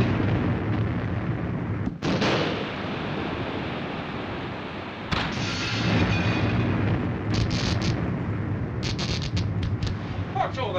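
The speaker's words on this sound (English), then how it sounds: "It's hard to tell with these depth charges." Depth charges explode outside a submarine in a 1943 wartime naval film, heard from inside the hull as heavy, rumbling booms with abrupt onsets over a continuous roaring background.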